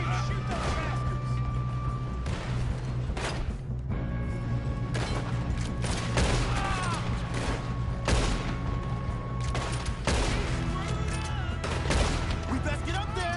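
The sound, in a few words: gunfire in the video game Red Dead Redemption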